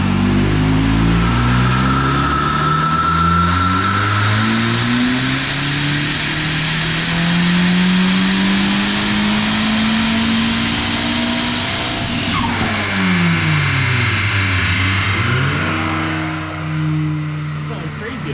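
A turbocharged, K-series-swapped Mazda Miata screams through a dyno pull, its engine note climbing steadily in pitch to a high peak, cutting off, then revving again in rising and falling sweeps, loud and close throughout.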